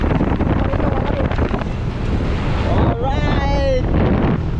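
Steady, loud wind buffeting a microphone outdoors in cool weather, a constant rumbling roar filling the whole clip with brief faint background sounds partway through.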